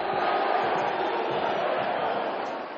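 A large football stadium crowd roars with sustained, dense noise that holds steady and fades slightly at the end, consistent with mass booing aimed at the former Santos player Lucas Lima whenever he touched the ball.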